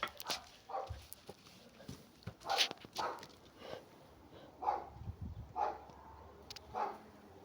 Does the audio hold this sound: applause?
no